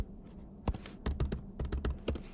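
A formula is typed on a computer keyboard, giving a run of close, sharp key clicks in uneven bursts with brief gaps and no talking.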